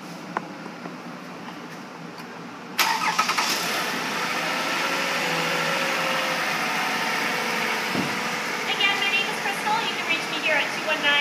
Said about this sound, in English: Go ahead and pop open the hood and get it started so you can hear it.